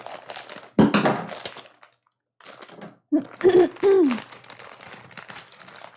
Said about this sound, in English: Open your rice paper.